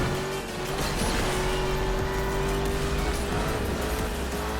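In the Asphalt 8 racing game, a race car drifts with a steady engine drone and a sustained tire tone, loud and continuous with game sound around it and no talk.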